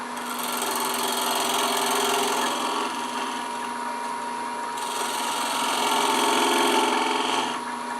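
Wood lathe spinning a contrasting-wood threaded box blank as a tool takes it round, a steady whirring hum with scraping cutting noise running continuously, fairly close.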